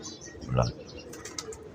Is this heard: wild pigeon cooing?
yes